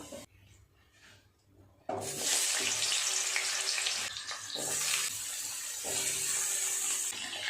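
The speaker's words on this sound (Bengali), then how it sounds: "কড়াই গরম হয়ে গেছে দিয়ে দেব পরিমাণ মতো তেল ওল আর আলুটা একটু ভেজে নেব" Cubes of potato and elephant foot yam hitting hot oil in a kadai, a quiet start then a sudden loud, steady hissing sizzle that swells and dips for several seconds.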